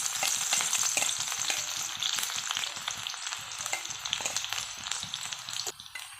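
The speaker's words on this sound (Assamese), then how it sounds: "এতিয়া আমি পিঁয়াজখিনি দি দিম। তেল আমাৰ গৰম হৈ গ'ল।" Onions frying in hot oil, a dense, steady crackling sizzle close by with stirring clatter throughout and no voices.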